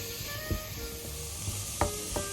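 Bacon lardons, carrots, onion and leek sweat in a pan with a steady, low sizzle, broken by a few soft knocks and scrapes from stirring. No one speaks.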